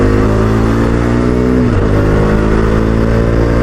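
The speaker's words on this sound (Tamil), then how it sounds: "வண்டி கொஞ்சம் லைட்டாக அக்ரெசிவாக ஓட்டுறேன்" A Bajaj Dominar 250 BS6 motorcycle from 2022, ridden aggressively, its engine droning loudly and steadily with a brief dip and rise in pitch midway, heard close from the rider's position.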